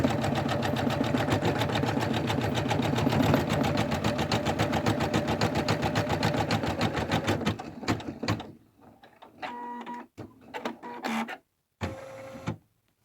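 An embroidery machine stitches an in-the-hoop zipper bag with a loud, even, rapid mechanical hum for several seconds, then breaks into short stop-start bursts and pauses, close and without talk.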